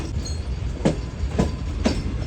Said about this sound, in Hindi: ट्रेन प्लेटफॉर्म लाइन की तरफ बढ़ रही है और ट्रैक चेंज करके प्लेटफॉर्म लाइन पर लग रही है